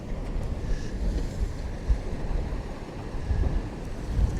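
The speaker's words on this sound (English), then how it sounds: "Those waves are getting very friendly now." Waves break over a Bristol Channel pier, a continuous rough wash of surf with a few heavier surges, mixed with blustery wind buffeting the microphone close by.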